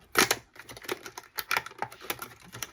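Crinkly plastic packaging rustles and crackles in quick, irregular bursts close to the microphone, with no talking.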